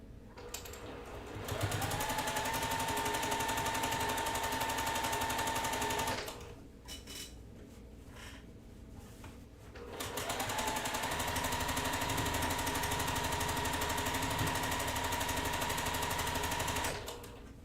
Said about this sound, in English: I'm going to sew these together.